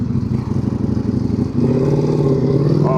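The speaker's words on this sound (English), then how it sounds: "Oh, that's a sick Ducati" A big Ducati adventure motorcycle rides past near Clark International Airport, its engine a steady loud rumble that swells and settles into a stronger, even drone as it comes close.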